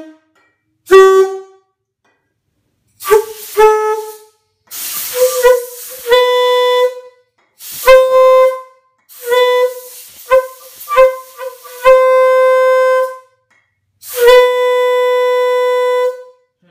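Nathan AirChime K5LA-style air horn with its bells in a hybrid configuration sounds a series of loud, close chord blasts, some short and some held, separated by brief silences.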